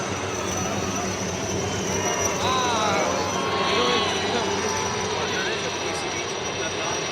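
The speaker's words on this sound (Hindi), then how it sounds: "आप देख सकते हैं 3 चेतक हेलीकॉप्टर" Three Chetak helicopters fly over an army day parade in Jaipur, a steady, loud rotor and engine roar filling the air while a commentator talks over it.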